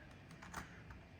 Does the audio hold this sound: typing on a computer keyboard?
yes